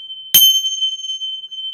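A struck metal chime gives a single sharp ding followed by a long, clear ringing tone that sustains steadily to the end, loud and close, with no talking.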